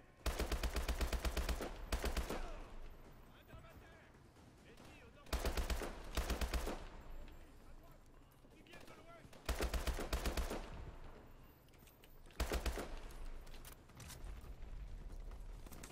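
Bursts of automatic gunfire from a picked-up weapon in the first-person shooter Call of Duty Advanced Warfare, four loud sustained volleys of rapid shots separated by quieter gameplay ambience.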